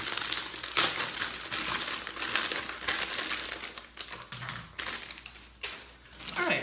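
Plastic bag of a Gunpla model kit being pulled open, with close crinkling and crackling rustles in quick irregular bursts, fairly quiet and continuous, with a few sharper snaps along the way.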